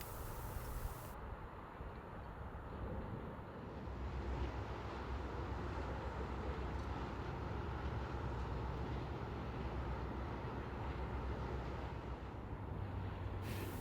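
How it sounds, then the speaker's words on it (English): A Hitachi Class 802 IET train crosses the Royal Albert Bridge, a steady, loud rumble of wheels on rails with broad noise that holds evenly throughout, close by and uninterrupted. "Here's an Hitachi Class 802 IET crossing the bridge"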